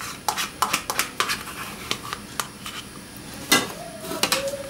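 Spoon or whisk clinks and scrapes against a bowl in quick irregular strokes, stirring sour cream into batter for a semolina raisin cake, close up, with no voices.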